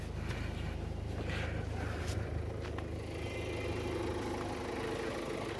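A 2015 Ford EcoSport Titanium engine runs at a steady, low idle, a quiet continuous hum heard close by with no one speaking.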